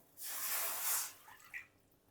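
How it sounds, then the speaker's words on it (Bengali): Water poured into a large pot to make syrup for nolen gur rasgulla, one close rushing splash lasting about a second, followed by a few faint drips and settling sounds. "এর মধ্যে এবার বাটি মাপে আমি চার বাটি জল দিয়ে দেব"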